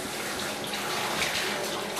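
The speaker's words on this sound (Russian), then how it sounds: "вот это обезьяна шимпанзе, это человеческий душ. И вот он здесь купается" Water from a human shower pours steadily onto a bathing chimpanzee at a circus, a continuous close hiss and splatter with no talking.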